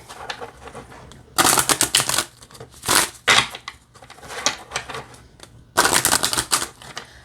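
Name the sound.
shuffling a deck of oracle cards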